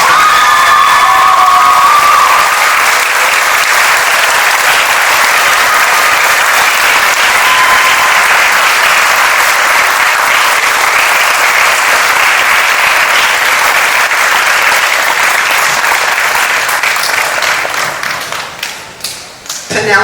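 Loud, sustained audience applause with some cheering fills a school orchestra spring concert hall, congratulating an orchestra student receiving the Director's Award, then thins out and fades near the end.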